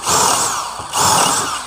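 DeWalt DCD706 brushless cordless drill boring into a piece of wood at top speed, a loud, steady high-pitched whine with two close bursts of drilling and a short dip between them, with no voices.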